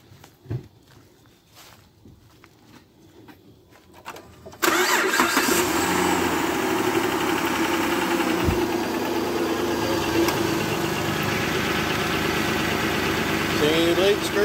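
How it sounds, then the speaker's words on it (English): A Volkswagen Routan minivan engine cranks and catches after a few seconds of quiet footsteps and handling noise, then settles into a steady, loud idle close by. "so we'll crank up the engine right quick and we'll check it for leaks"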